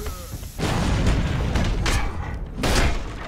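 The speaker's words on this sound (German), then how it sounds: "Der ist am explodieren." Heavy booming explosions from the fantasy video game Overlord, two loud deep blasts with rumbling tails in quick succession, dense and close over continuous game noise.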